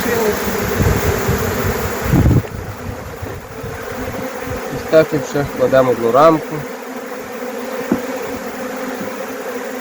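Swarming honey bees buzz steadily around a hive trap outdoors, a continuous droning hum with some wind, while someone talks over it in Ukrainian and wooden hive frames clunk and knock now and then.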